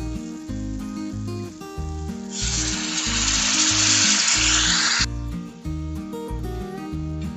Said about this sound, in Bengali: এবার আমরা জল ঢেলে দেব।